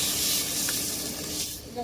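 Water hisses and sputters in a hot pan of lightly fried fish, a loud steamy sizzle that slowly fades toward the end.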